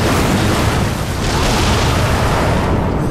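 A detonation explosion in the video game Darksiders 2 gives a loud, dense, continuous rumbling roar lasting a few seconds at full strength, tapering slightly only at the very end.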